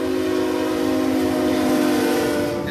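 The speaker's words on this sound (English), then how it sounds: "I can hear the horn." A southbound CXX mixed freight train sounds its horn, a loud sustained multi-tone blast holding steady and close for the whole stretch with no pauses.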